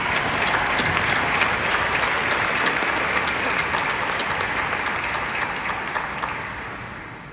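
Large conference audience at a Las Vegas real estate convention applauding steadily, a dense wash of clapping that holds strong for several seconds, then tapers slightly toward the end.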